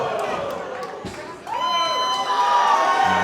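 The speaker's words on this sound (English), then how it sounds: "And now cheers for Haskins." A live wrestling crowd at a NORTH Wrestling show roars and cheers for Haskins, a dense, loud wall of voices that swells and holds steady, with a few shouts standing out near the front.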